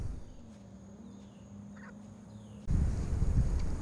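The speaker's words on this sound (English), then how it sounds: "Oh, a bunch of geese just landed." Geese call out on the water after landing, a few faint honks and squawks drifting in from a distance over quiet ambience, before a louder burst of broadband noise takes over near the end.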